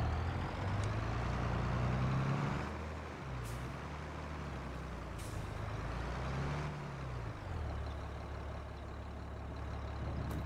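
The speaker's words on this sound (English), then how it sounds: "John Deere warming up." A John Deere tractor engine warms up in Farming Simulator 22, a low, rumbling diesel drone whose pitch rises and falls as the revs shift, steady and moderately loud throughout.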